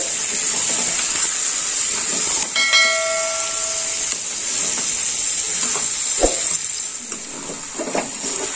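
Chicken pieces sizzle and sauté in a hot pan while being cooked down for lemon honey chicken, a steady close frying hiss with a few scraping stirs and brief clinks, no talking.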